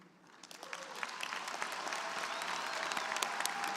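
A graduation ceremony audience applauds military veterans who stand, a steady dense wash of many hands clapping that builds slightly and holds, fairly distant and without voices.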